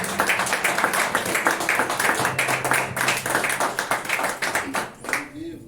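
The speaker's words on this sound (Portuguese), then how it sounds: "Dá uma salva de palmas ao Senhor" A church congregation clapping for the Lord, steady rapid hand claps from many people with voices mixed in, ending abruptly near the close.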